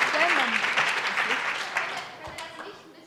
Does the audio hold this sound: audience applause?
yes